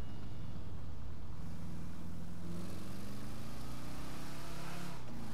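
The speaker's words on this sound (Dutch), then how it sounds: "Komt een heerlijk motorgeluid uit." An old car's engine idles and revs in GTA 5, a loud, close, rumbling drone that climbs in pitch as it revs up and keeps going steadily throughout.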